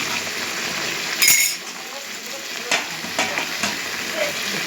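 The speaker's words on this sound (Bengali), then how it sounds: "এই আমার রান্না হচ্ছে কষা মাংস হচ্ছে বন্ধুরা।" Kosha mangsho, boiled meat being fried and stirred in a pan, sizzling steadily up close with several sharp scraping and clinking strokes of a spoon against the metal.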